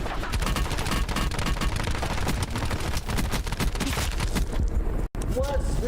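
Video game gunfire crackles in dense rapid bursts, loud and close, with a player's excited talk over it and a brief dropout near the end.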